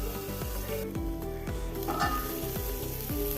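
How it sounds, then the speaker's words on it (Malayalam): Dried shark fish frying in a pan, a continuous close sizzle of hot oil with soft bubbling pops, steady and moderately loud under a rhythmic low thumping in the background. "ഒരു വെറൈറ്റി മീൻ ഫ്രൈ ഞാൻ ചെയ്യുന്നത്"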